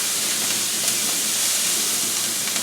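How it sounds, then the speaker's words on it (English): Chopped peppers and onions sauté in a pan, a loud, steady, close sizzle that holds evenly throughout with no voices. "I'm going to saute those down for about 3 minutes"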